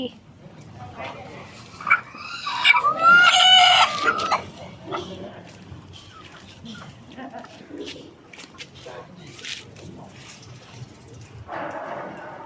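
A chicken squawks and clucks loudly for a couple of seconds at a temple, then scattered softer clucks follow while people talk nearby.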